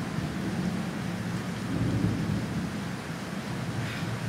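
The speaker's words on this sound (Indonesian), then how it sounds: "Waduh, hujan nih agak berisik ya." Steady, heavy rain pours down in a constant hiss, close and loud, with a deep rumbling undertone.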